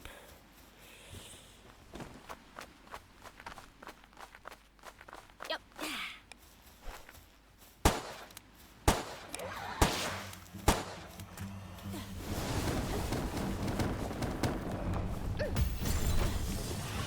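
Pump shotgun blasts in the game Palworld, several sharp loud reports spaced about a second apart amid clicking mechanisms and footsteps, followed by a rising rush of noisy action.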